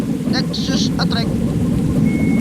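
A Hino truck with a modded exhaust in the Bus Simulator Indonesia game, a loud low rumbling drone, steady and close, with a few short hissing bursts near the start.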